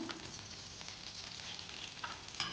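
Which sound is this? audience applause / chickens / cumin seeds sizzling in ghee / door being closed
cumin seeds sizzling in ghee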